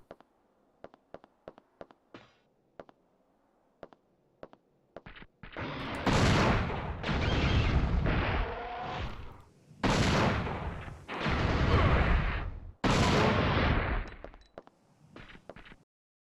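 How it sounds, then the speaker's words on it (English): An anti-tank gun fires in Dino Crisis 2 on the PlayStation, with a series of sharp clicks and light shots followed by heavy, booming blasts that come in long, roaring bursts separated by short gaps. "this anti-tank gun doesn't mess around"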